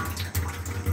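Water pours in a steady, close gush into a large pot for Dindigul mutton biryani, a continuous splashing flow with slight surges, heard alone.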